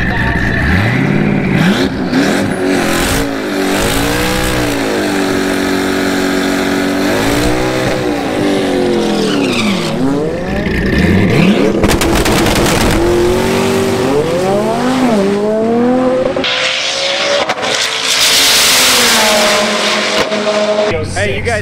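A Nissan 240 drag car launching down the quarter mile at the TX2K19 drag race event, its engine climbing through repeated rising gear pulls, loud and close, with crowd noise and a little talk mixed in.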